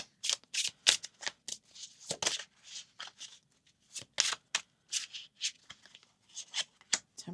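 A Halloween-themed tarot deck is shuffled close up, crisp papery slaps and riffles arriving in uneven bursts with short gaps between them.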